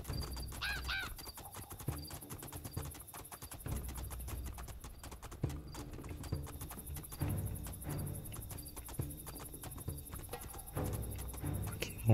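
Horse hooves clop steadily at a walking pace amid crickets and ambient background, with a brief whinny near the start, in the video game Two Worlds II.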